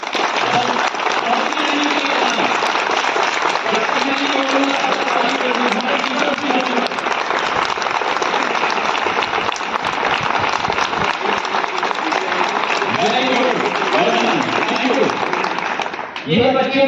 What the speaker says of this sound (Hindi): We welcome the children with a responding applause होनी चाहिए, जोरदार ताली होनी चाहिए।